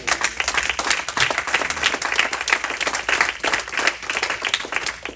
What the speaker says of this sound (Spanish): No sé si alguien le da un aplauso al Señor.